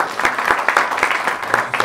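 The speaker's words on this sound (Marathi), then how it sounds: "सो विराटसाठी टाळ्या व्हायला पाहिजे." Applause from the audience at a film trailer launch event, a steady wash of many hands clapping close by and filling the short moment without pause.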